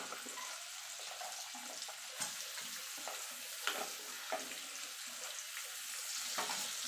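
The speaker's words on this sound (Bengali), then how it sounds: "পেঁয়াজটাকে একটু গোল্ডেন করে ভেজে নেব।" Chopped onion sizzling in hot oil with tempered spices, a steady bright frying hiss broken by occasional stirring scrapes and small pops, faint and with no talking.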